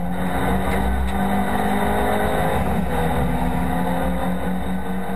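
Volkswagen Golf race cars in a Fun Cup race at Spa-Francorchamps blast downhill out of Bruxelles corner, a loud, sustained engine howl from close by with layered overlapping revs and no pauses.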